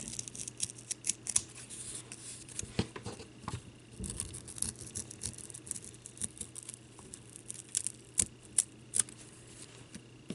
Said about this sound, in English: And then I'll just cut these leaves out.